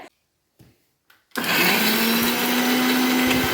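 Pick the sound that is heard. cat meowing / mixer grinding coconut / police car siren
mixer grinding coconut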